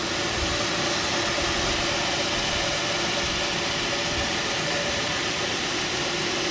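2004 Acura MDX V6 engine idling smoothly, a close, steady hum with even mechanical texture and no revving, alone without voices.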